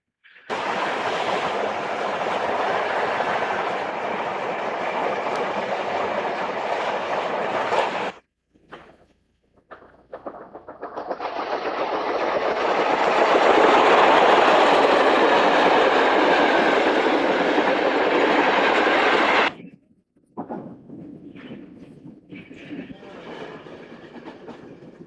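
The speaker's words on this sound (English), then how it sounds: "The train heads for Pisa." A train rumbles steadily along the rails in Italy, heading for Pisa, loud and continuous, with brief drops in the noise before the roar resumes.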